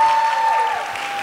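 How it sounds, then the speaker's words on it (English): Graduation audience at a pre-K and kindergarten ceremony applauding a teacher, a soft continuous patter of clapping under a steady high electronic tone, brief and fairly even in level. "let's give Miss Washington a round of applause"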